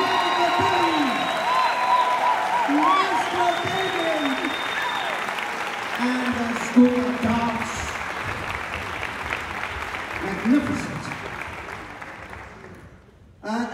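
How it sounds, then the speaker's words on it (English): Concert hall audience applause after a symphony orchestra showcase, a sustained crowd clapping with a few cheers and voices talking over it, fading out at the end. "Give them all a round of applause."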